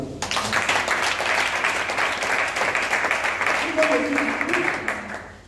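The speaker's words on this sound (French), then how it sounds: "Acclame pour ça." A church congregation applauds together during a French-language sermon, a dense, steady wash of clapping that fills the whole stretch at even loudness, with voices mixed in underneath.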